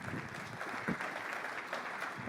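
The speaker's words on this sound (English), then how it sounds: "Let's give another round of applause and take it away." An audience applauds at a late talk in a lecture hall, with a steady patter of clapping that holds at moderate loudness through the whole short stretch.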